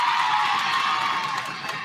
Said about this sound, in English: Oh my goodness gracious, this crowd